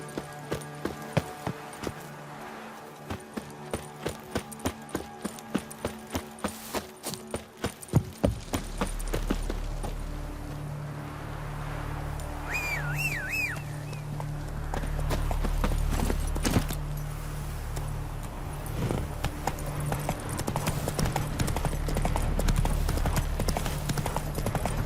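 Hoofbeats of a ridden horse in the video game The Witcher 3 clip-clop in a steady rhythm, close and clear at first, then continuing under a louder rumbling ambient bed.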